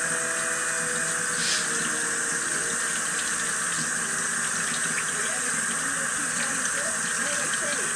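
Tap water runs steadily over a board while homemade butter is rinsed clean, a constant hissing splash filling the whole stretch at close range with faint clinks and handling noises beneath.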